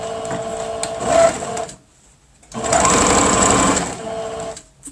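A domestic sewing machine with a standard presser foot sews a zipper onto a simple tote bag in two close, loud whirring bursts separated by a short pause, then a softer stretch of stitching.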